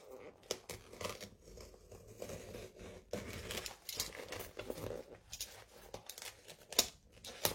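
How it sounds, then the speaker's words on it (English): A cutting knife slices through the binding thread of a book, giving a series of short, close snipping and tearing sounds with soft rustling of paper between them. "I cut them loose."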